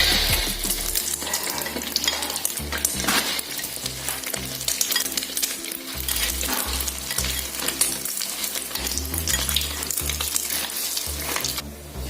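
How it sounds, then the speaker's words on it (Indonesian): Perkedel fritters fry in hot oil with a constant, close sizzle, broken by occasional scraping and clinking of a utensil against the pan. "Berikutnya langsung saya gunakan untuk menggoreng perkedel ya."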